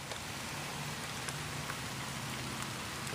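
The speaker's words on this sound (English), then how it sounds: "it's raining pretty decently now." Steady rain falls across a campsite with a fire going during an overnight stay in Osage, a dense, even hiss of drops hitting surfaces with no voices and no thunder.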